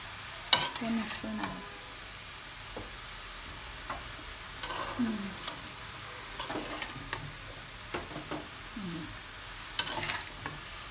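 Chicken and vegetables with capsicum being stirred and turned in a pan with chicken stock, giving soft scraping, clinking strokes over a low simmering sizzle, spaced irregularly and moderately close.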